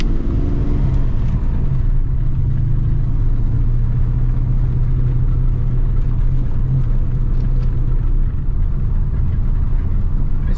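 A supercharged 1993 Ford Mustang Cobra Fox body with new exhaust is on a test drive, giving a loud, steady low engine rumble and road drone that holds throughout with no speech.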